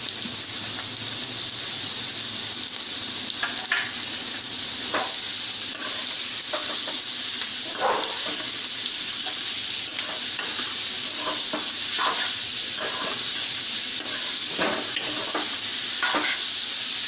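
Grated raw papaya frying with green chillies in a pan, a steady loud sizzle with scraping stirring strokes throughout, no voices.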